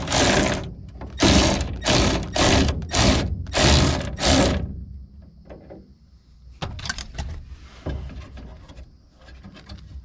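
A power tool tightens the quarter window mechanism on a 1972 Challenger, several loud whirring bursts in quick succession, followed by quieter clicks and metallic handling sounds.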